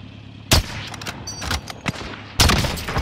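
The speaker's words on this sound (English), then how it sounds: "I'm taking fire!" Loud bursts of automatic gunfire in a Call of Duty multiplayer match, two heavy volleys framing a spell of lighter, scattered shots, close and sharp.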